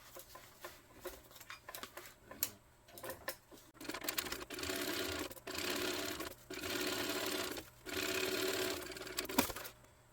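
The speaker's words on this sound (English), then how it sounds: "we're going to top stitch this down" A sewing machine top stitches a tote bag, starting with scattered clicks and short bursts of stitching, then running in steady sustained runs broken by brief pauses. The sound is close and fairly quiet, with no talking.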